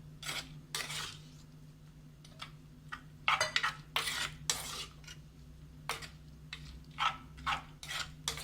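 A spoon stirs and scrapes through a snake gourd and prawn coconut curry in a pot, giving a run of irregular clinks and scraping bursts separated by short quiet gaps.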